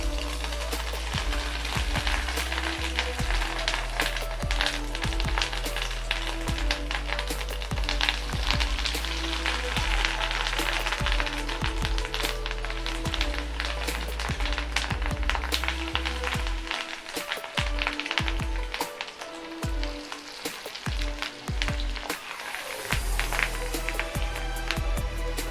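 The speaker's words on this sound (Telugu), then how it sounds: "వీటిని కొంచెం కలర్ చేంజ్ అయ్యేంత వరకు ఫ్రై అవ్వనివ్వండి" Fish roe pakodas fry in hot oil on a low flame, a steady, dense sizzle and crackle that stays fairly loud throughout with no talking over it.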